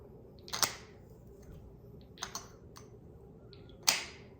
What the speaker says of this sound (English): This joint, it claps on pretty loud.